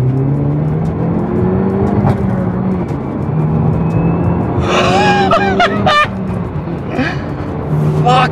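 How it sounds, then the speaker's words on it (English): Renault Megane hatchback in sport mode accelerating hard in second gear, a loud, steady engine drone climbing in pitch throughout, with a brief voice and some higher whines partway through. "We're about to do a second gear pull."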